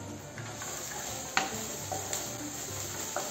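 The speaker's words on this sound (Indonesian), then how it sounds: "Bawang bombay dan bawang putihnya kita tumis dulu" Onion and garlic sautéing in a pan for instant spaghetti: a steady low sizzle with occasional sharp clinks of a utensil stirring against the pan, quiet and close, no voices.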